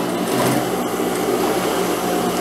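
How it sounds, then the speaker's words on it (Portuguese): A sewing machine stitching a jacket seam runs steadily and close, a continuous whirring motor hum with a fast mechanical needle rhythm, alone without talk. "Virando aqui, continuo fazendo a costura."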